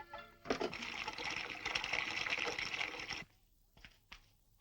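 Water gushes from an opened tap and floods a room, a steady splashing rush lasting about three seconds before cutting off, followed by faint knocks and a sharp sound at the end.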